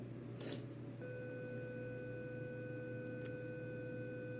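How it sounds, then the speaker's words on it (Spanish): A steady electronic machine beep starts after a short mechanical click of a servomotor on a programmable controller and holds a pure tone for several seconds over a low hum. "y suena el pitido."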